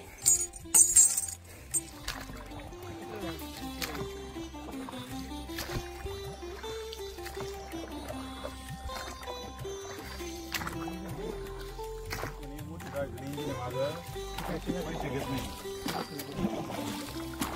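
A boat crosses a small river channel on the Narmada parikrama route, giving a faint, steady low hum with soft water sounds throughout.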